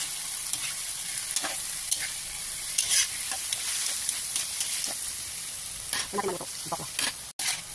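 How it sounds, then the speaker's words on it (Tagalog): Tofu frying in a pan, a steady close sizzle with occasional stirring clicks and spatters, moderately quiet and without talk. "Nagluluto ng ating tokwa."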